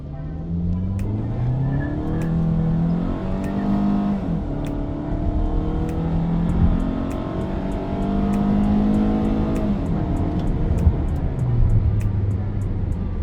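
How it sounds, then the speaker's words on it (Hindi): A 2022 Hyundai Sonata with a 2.5L engine accelerating from 0 to 100 in sport mode, its engine note rising and dropping through repeated gear shifts, loud and close, with a high-pitched ticking in the background. "तो इस गाड़ी को टेस्ट करते हैं भगा के 0 to 100 कि ये गाड़ी कितनी देर में 0 to 100 करती है।"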